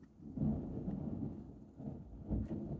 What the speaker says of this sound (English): Straight thunder.